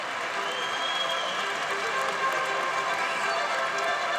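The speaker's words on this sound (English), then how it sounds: "So a very happy Estonian crowd here." A happy Estonian crowd at a 71kg super fight applauds and cheers the winner in a continuous, even wash of clapping and voices, fairly loud and unbroken.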